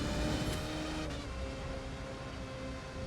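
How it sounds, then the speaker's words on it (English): Engine of a race car in the video game The Crew 2, a steady loud droning hum at constant revs with a faint clicking transient, heard alone without talk. "Car does sound really nice though."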